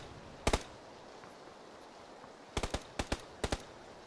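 Gunfire in the video game PUBG: a quick double shot, a pause of about two seconds, then a rapid string of six sharp cracks in pairs, loud and close, with no talking.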